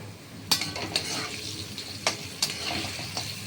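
Potatoes fry in a pan with salt and turmeric for a Bengali parshe fish jhal, a soft steady sizzle broken by several sharp clinks of a spatula against the pan.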